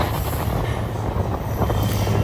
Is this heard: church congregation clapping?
no